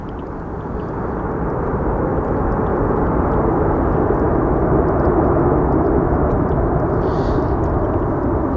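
Airplane landing in windy weather at Amsterdam Schiphol Airport: a loud, broad engine and wind roar that builds over the first seconds and then holds steady, heard from outside with no voices.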